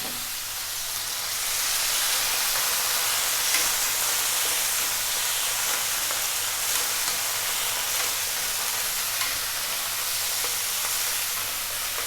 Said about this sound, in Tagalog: lulutuin na po natin yung ating marinated na chicken breast